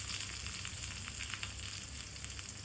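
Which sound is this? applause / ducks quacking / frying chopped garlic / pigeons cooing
frying chopped garlic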